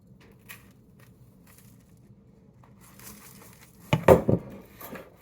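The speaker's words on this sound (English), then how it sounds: "Then we are going to do 2 cups of breadcrumbs. put it in to the bowl." Two cups of breadcrumbs poured into a bowl already holding two pounds of hamburger for meatloaf, a short crackly rustling burst near the end after quiet kitchen background.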